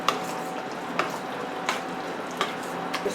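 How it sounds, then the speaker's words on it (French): Aubergine sizzling steadily in a hot pan while being stirred, with sharp periodic scrapes and clinks of the spoon against the pan roughly every second, close and fairly loud, no talk. "C'est à ce moment-là qu'on met l'aubergine. Alors on remue bien."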